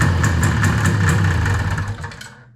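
A 1971 Arctic Cat snowmobile engine, sitting unused for over fifteen years, fires up and runs loudly with a rough, throbbing idle, then cuts out and fades to silence near the end.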